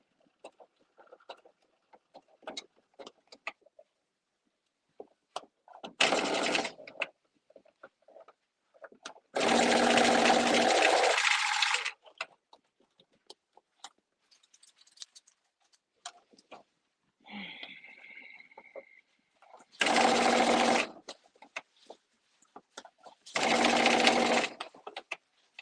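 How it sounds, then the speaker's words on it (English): A serger overlocks fabric in four separate loud whirring bursts of one to three seconds, with quiet clicks, handling noises and a brief voice between runs. "the serger is kind of loud, so you gotta excuse me"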